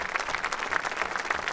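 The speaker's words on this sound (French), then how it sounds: "Le silence, puis les applaudissements." A brief burst of steady clapping from a crowd at a memorial tribute, following silence, moderately loud and even, with no voices over it.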